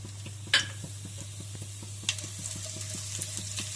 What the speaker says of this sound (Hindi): इसमें मैं 1 टीस्पून जीरा शामिल करती हूँ